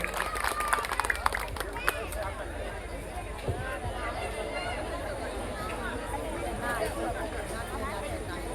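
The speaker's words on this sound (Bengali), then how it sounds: "একবার জোরে হাততালি হয়ে যাক ম্যাডামের জন্য" Audience applause for a woman being honoured at a Shyama puja gathering, a dense rattle of many hands clapping throughout amid crowd chatter, close and sustained.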